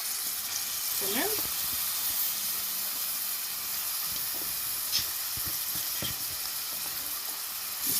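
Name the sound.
onion frying in oil in a pot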